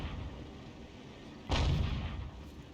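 An M44 self-propelled artillery piece in a tank video game fires a shell, one sharp booming blast that rises suddenly out of low background rumble and then decays into a rolling tail.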